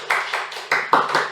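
A few separate claps at a Toastmasters club table topics session, five or six distinct hand claps in quick uneven succession, close and sparse rather than full audience applause.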